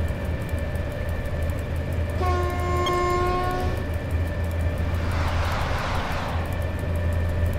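An AI-driven train passes in the SimRail rail simulator, sounding a long two-tone horn blast over a steady low rumble of rolling stock, followed by a rushing whoosh as it goes by.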